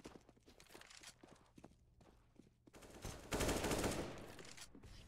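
Rapid bursts of gunfire from the CS:GO map play in a competitive esports match, a sharp cluster of shots near the end with quieter footsteps and clatter before.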